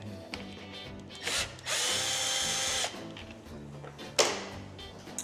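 Power screwdriver removing screws from the front fairing of a BMW R1300GSA motorcycle, several short whirring bursts with one longer sustained run, close and clear amid light handling clatter.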